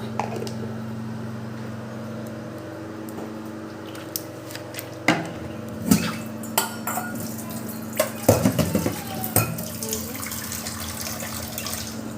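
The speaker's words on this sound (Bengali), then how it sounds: "আর যে ডাল নিয়ে নিলাম ডালটাকেও ভালো করে ধুয়ে নিই" Lentils are rinsed in water at a kitchen sink, with water running steadily and a scattered series of close clinks and knocks from a metal pot or dish.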